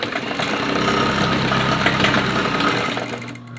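A sewing machine stitches a fabric face mask with a steady, continuous mechanical whir and motor hum that runs close and loud, then tapers off at the end.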